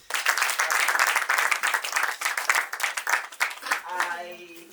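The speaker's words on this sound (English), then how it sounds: "Please clap for them." A small group on a Valentine's Day podcast claps in a close, busy burst of overlapping hand claps that thins out near the end as a voice starts speaking.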